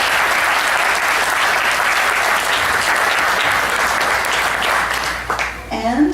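Loud, sustained audience applause at a Guru Vandana cultural program, dense clapping throughout that tapers near the end as a voice begins to speak.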